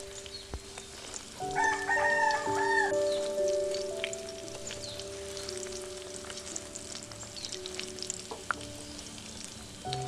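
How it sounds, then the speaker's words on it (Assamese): Paneer fries and sizzles steadily in a pan with occasional stirring scrapes. A rooster crows loudly in the background early on, and faint household sounds drift in. "অলপ ৰঙা হোৱাকৈ ভাজি ল'ব"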